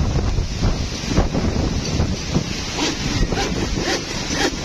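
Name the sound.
strong wind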